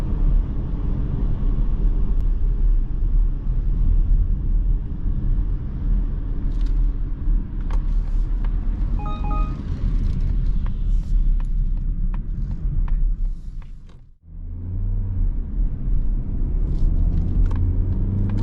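A 2023 Mazda CX-30 accelerates hard from 0 to 100 km/h, giving a loud, steady engine and road rumble that dips sharply for a moment near the end, then picks back up.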